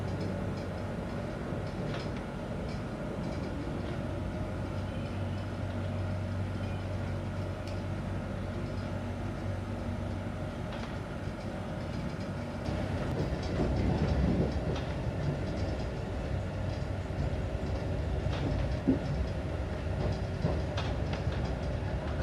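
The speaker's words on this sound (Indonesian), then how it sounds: "Perjalanan kereta Banyu Biru tiba di stasiun Gundih ya." KA Banyubiru passenger train pulling into Gundih station, a steady rumbling rail roar with wheel clatter and occasional clicks throughout, growing slightly heavier near the end as it arrives.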